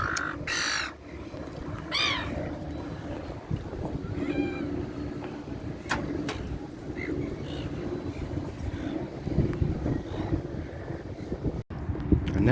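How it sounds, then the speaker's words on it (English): Strong wind buffets the microphone steadily at a Gold Coast lagoon, a continuous roar with crows and other birds squawking loudly over it. "wind has picked up quite a lot here"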